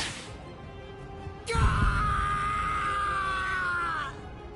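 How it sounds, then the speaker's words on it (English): A man screams in pain in the video game Bleach Rebirth of Souls, one loud sustained cry holding for about two and a half seconds after a brief thud, with a fainter groan before it. "compared to the screams that a woman is able to produce, a man's lack a certain charm."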